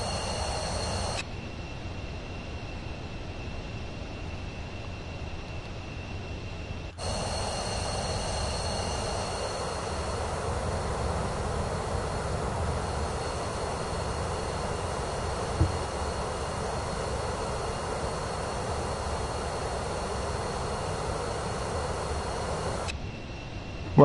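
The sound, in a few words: Cessna CJ4 jet aircraft engine, Microsoft Flight Simulator 2024 video game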